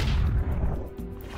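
An explosion spell from Heroes 3 goes off in one short, heavy boom with a deep rumbling burst that quickly decays into a brief tail.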